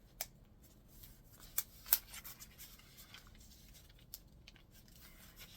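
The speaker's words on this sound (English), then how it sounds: "All you're going to do is an accordion fold, just as if you were making a paper fan." Paper being accordion folded to make a Victorian Christmas ornament, quiet crisp creases and rustles with a few sharper snaps, close up and faint in a hushed room.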